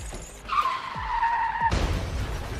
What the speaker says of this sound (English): A massive impact caused a horrific car accident